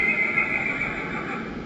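A horse neighs loudly and close in a museum horse exhibit, one sustained whinny filling the whole moment with no voices over it.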